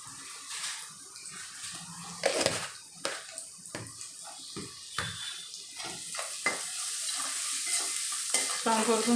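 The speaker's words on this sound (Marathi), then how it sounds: "छान परतून घ्यायचं." Ingredients being sautéed and stirred in a pan after salt is added, with a spoon scraping and clinking against the pan in irregular strokes over a steady sizzle.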